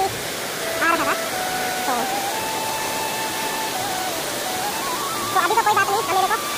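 Steady broadband rush of the Rani Duduma waterfall fills the whole clip, with a few brief bird-like chirps and faint tonal sounds over the constant roar.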